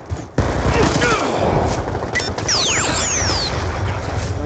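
Rapid automatic gunfire and bursts of shots from Call of Duty on the Nuketown map ring out loud and continuous, with whizzing ricochets layered through the game action.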